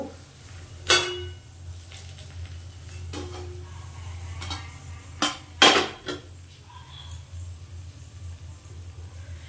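Fried pumpkin flower fritters lifted from a pan, with a few sharp metal clinks and scrapes of a utensil against the pan over a low steady hum, then quiet.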